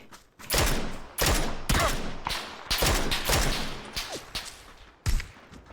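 Rapid bursts of gunfire in the video game PUBG crackle in quick volleys, several sharp shots and short sprays following one another, loud and close.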